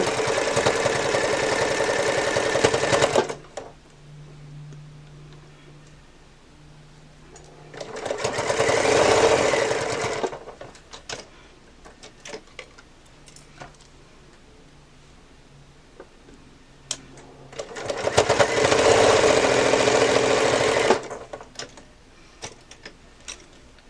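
A sewing machine stitches Quilting Cuddle fabric for a patchwork bow in three separate loud bursts of rapid, even mechanical whirring, separated by quieter pauses with faint clicks and handling.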